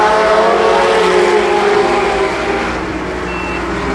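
Limited sportsman stock cars race at Columbus Motor Speedway in 1993, a steady loud roar of engines and tire noise from a pack of cars passing continuously.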